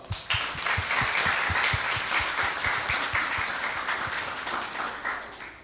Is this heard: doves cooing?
no